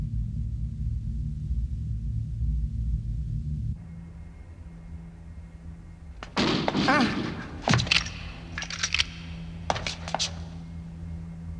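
Gunfire in an anime police action scene, a burst of sharp cracks and thuds after a quiet stretch of low rumbling, followed by a few more scattered impacts, fairly loud and close with no talking.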